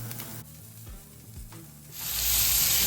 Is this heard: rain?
no